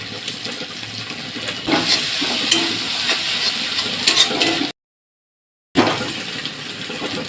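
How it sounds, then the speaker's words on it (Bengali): Onion frying in a biryani pan with ginger paste and garlic paste stirred through it, giving a steady close sizzle with scraping strokes. The sound cuts out briefly near the end, then the sizzle resumes. "এর মধ্যে এবার দেবো আমি একটু আদা বাটা আর সাথে দেবো হচ্ছে অল্প রসুন বাটা দিয়ে ভালো করে নাড়াচাড়া করবো"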